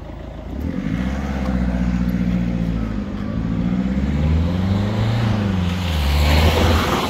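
A car passes on a Belgian road, heard from close by as a loud engine drone that rises and falls and swells again near the end.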